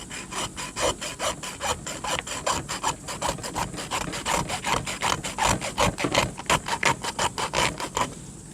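A hand saw rasps steadily through the armored scales of a gar, just behind the head, in a quick run of dense back-and-forth strokes that carries on close and loud with no talking.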